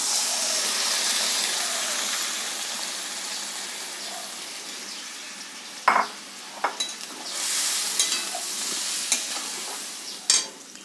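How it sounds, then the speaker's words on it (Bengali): Boiled chana dal tipped into a hot pan and stirred for a Bengali veg cholar dal, giving a steady soft sizzle with a few sharp spoon scrapes and clinks near the end. "এবারে আমি যেটা ডালটা সেদ্ধ করে রেখেছিলাম সেটা দিয়ে দেবো।"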